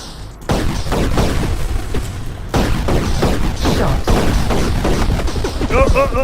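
Tank cannon fire in an Atari game, repeated booming shots in a steady run over a dense, busy game soundtrack, with a brief bright chirping effect near the end.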